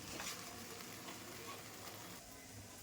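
Semolina halwa mixture roasting in ghee on a hot pan while being stirred, giving a steady close sizzle with soft scraping throughout.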